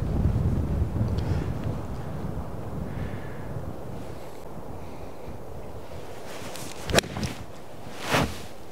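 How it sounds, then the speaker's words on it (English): Wind gusting across the Flying Horse North golf course in Colorado, buffeting the microphone with a low rumble that is strongest at first and then eases, followed by two sharp clicks near the end. "The wind hopefully dies down."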